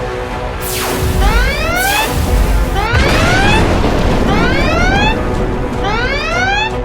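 Enemy starship weapons fire as a science-fiction sound effect: four rising, sweeping laser-like zaps, each landing with a heavy rumbling boom and crash, repeating roughly every second and a half over a loud continuous roar.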